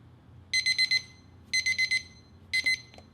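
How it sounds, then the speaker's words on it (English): A TP20 wireless meat thermometer sounds its countdown alarm: three bursts of four rapid, shrill beeps, one burst each second, close and clear over a quiet room. "I'm now going to demonstrate the TP20's countdown alarm function."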